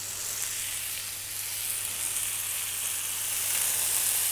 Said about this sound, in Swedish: Så nu är det bara att steka de här på medelvärme så att den får fin färg runt om.